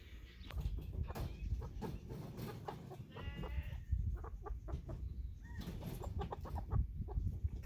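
Freedom Ranger and Cornish Cross chickens cluck and murmur steadily in a noisy farmyard, with scattered short calls and some rustling nearby.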